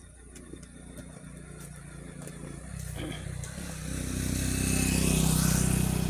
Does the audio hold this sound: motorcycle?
yes